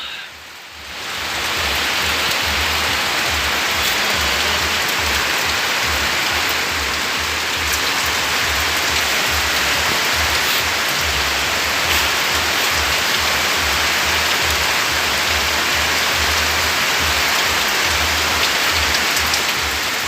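Heavy rain pours steadily at a resort, a dense, loud, unbroken hiss of water hitting surfaces that builds within the first second and then holds constant with no voices.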